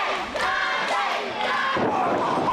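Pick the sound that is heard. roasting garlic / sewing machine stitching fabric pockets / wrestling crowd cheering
wrestling crowd cheering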